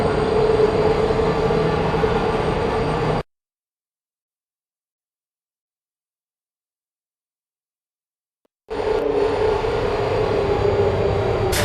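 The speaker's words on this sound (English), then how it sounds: "The elevator wasn't going to my testing track, so I've rerouted the lift." A rerouted elevator lift in the video game Portal Stories: Mel travels with a loud, steady mechanical rumble that cuts off into complete silence for several seconds, then starts up again.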